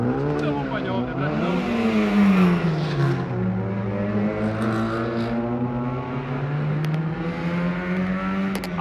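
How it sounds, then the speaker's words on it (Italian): A Yugo hybrid race car's engine at a 2010 training session at Novo Ušće, revving up close by, its pitch climbing, dipping and then holding steady under throttle, with possible voices faintly beneath. "A kako ide auto na gasu?"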